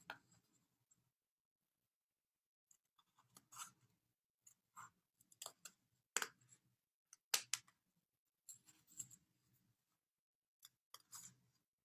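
Scissors snip paper shapes at a craft table in several short bursts of crisp cuts separated by quiet gaps, close and fairly soft with no talk.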